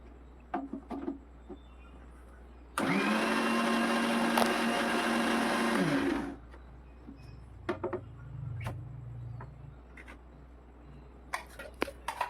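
Mixer grinder blending a breakfast mix, a steady loud whir of about three and a half seconds that starts and stops abruptly, surrounded by quiet kitchen clatter and handling sounds.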